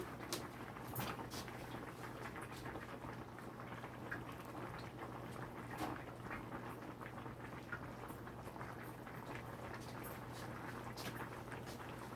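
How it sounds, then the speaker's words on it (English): Rasta pasta sauce simmering in a pan, a soft continuous bubbling with scattered small pops and clicks over a low steady hum, faint and close. "this is bubbling"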